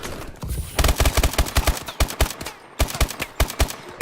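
Rapid bursts of gunfire from a shooter video game crackle in quick succession, loud and close, with a brief pause midway before the shooting resumes in another fast string of shots.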